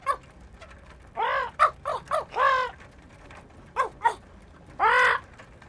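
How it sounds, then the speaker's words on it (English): A parrot squawks in a run of harsh, crow-like calls, close and loud. Short bursts come in clusters, separated by brief quiet gaps. "A naughty parrot takes the bread and the yoghurt."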